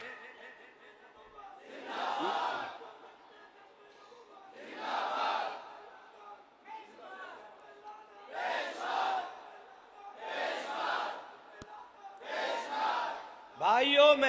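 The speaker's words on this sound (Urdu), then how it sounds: "یہ جتنا وقت میرے بھائی نے نعرے لگائے" A crowd at a religious conference chants slogans in loud repeated bursts, roughly every two seconds, each swelling and fading between short pauses, with a few scattered chuckles.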